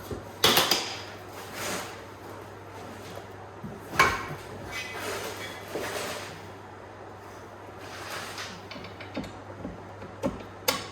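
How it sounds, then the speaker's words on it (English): Sparse metallic clinks and taps as bolts are slipped through a metal plate while fitting a plow to a 2020 Arctic Cat Alterra 570 ATV, a few sharper knocks among quieter scraping, over a low steady hum. "I'm just slipping the bolts through the plate now."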